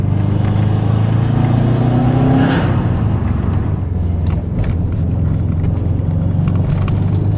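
A Subaru Impreza STI Limited JDM bugeye engine pulls hard and loud, its note climbing through second gear before a brief dip at the shift and steady, rumbling acceleration again, with no talking.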